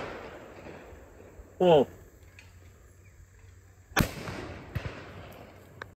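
A double-barrel shotgun fires once in the open, a sharp loud blast with a trailing echo, followed by a fainter second crack; voices speak briefly around the shots.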